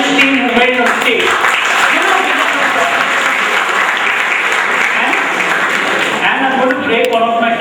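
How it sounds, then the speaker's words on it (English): Sustained, loud applause from a quiz audience cheering the only college team on stage, team number 4, at the General B.C. Joshi Memorial Quiz, steady dense clapping throughout with some crowd noise. "I want a round of applause to them, the only college team who made it on stage"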